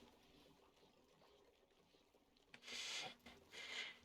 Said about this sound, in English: we do have the water starting to fill up down here